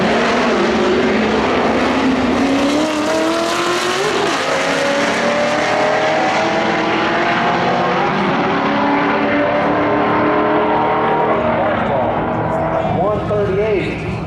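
Street-car drag race in Dallas: a Mustang and a Corvette launch side by side in a heads-up run, a loud sustained engine roar with rising gear-by-gear revs, fading slightly as they pull away down the strip.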